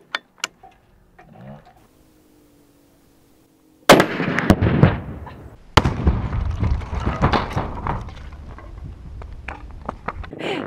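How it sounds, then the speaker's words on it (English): A .50 caliber rifle shot detonates Tannerite taped inside a cardboard box, a sudden loud blast followed by a second sharp boom and a long rumbling, crackling debris tail outdoors, after a few quiet clicks and faint handling sounds. "we're gonna hit them with the 50 cal. We adjusted the scope, and now we're gonna blow up one of the boxes"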